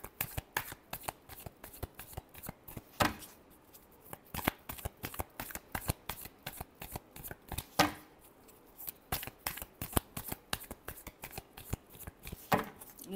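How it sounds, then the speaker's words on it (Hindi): Tarot cards are shuffled by hand in a quick, continuous patter of crisp slaps and riffles, close up, with no talking over them. "last shuffle"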